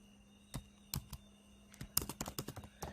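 Typing on a computer keyboard in a quiet room: a few scattered keystrokes, then a quick run of clicks, close and fairly soft.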